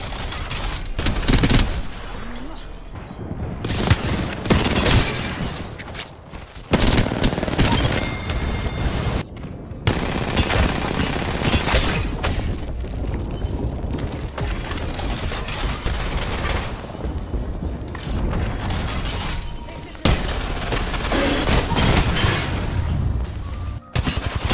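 Rampart's Sheila minigun in Apex Legends roars in long sustained bursts of rapid gunfire, dense and loud, broken by brief pauses and punctuated by heavier booms.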